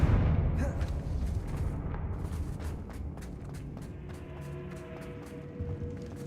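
Rumbling fiery blasts of the Confringo spell in Hogwarts Legacy, a heavy booming burst at the start decaying into crackling, with lighter impacts and game music tones later.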